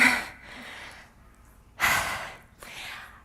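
A woman catches her breath with a few audible breaths and gasps, close and fairly quiet, with short pauses of near silence between them and no speech.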